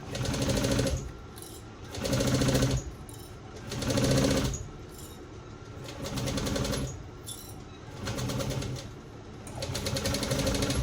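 A sewing machine stitches a shoulder bag seam at three-eighths of an inch, running in about six short rhythmic bursts of fast needle chatter separated by brief quieter pauses, close and alone.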